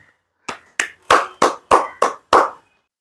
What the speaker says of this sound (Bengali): আর ভিডিওটা শুরুর আগে একটা জোরে হাততালি দিতে চাই